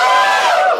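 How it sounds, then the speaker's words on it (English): A comedy club crowd lets out a short, loud burst of cheering and whooping that fades slightly at the close. "Same guys are cheering."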